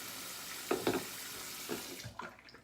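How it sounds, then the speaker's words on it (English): Water splashes briefly from a tap in short bursts to soak a shaving brush, close and fairly quiet, with a few small splashes and drips before it tapers off. "I forgot to soak my brush, so I'm gonna put that in some water real quick"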